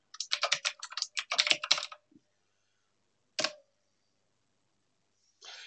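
Close, quick typing on a computer keyboard: a brisk burst of crisp key clicks for about two seconds, then a single isolated keystroke and one more faint click after a pause.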